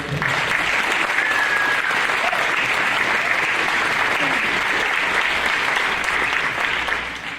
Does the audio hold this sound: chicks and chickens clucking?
no